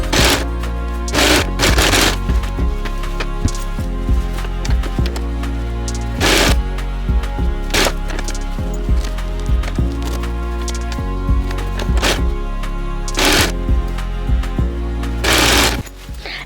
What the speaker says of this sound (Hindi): तीनों को सेंटर को मिलाते हुए इस तरह से सिलाई कर देनी है